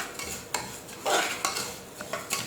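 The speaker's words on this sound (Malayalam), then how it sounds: "ചെറുപയർ പരിപ്പ് ഒന്നിനോടൊന്ന് തൊടാതെ എല്ലാം വറന്നു തുടങ്ങിയിട്ടുണ്ട്." Green gram dal dry-roasting in a pan, with repeated scraping stirs and light clinks of a spoon over a faint sizzle, heard close and without talk.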